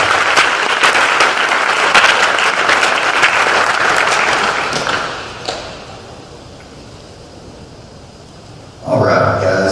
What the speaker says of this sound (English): Take a few pictures, clap for her.